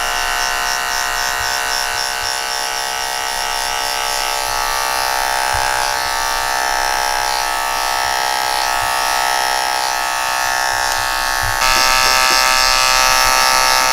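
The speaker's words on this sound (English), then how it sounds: "get in there with the clipper blade" Electric hair clippers buzz steadily while cutting hair for a low fade, a close continuous hum that grows slightly louder near the end, with no talking.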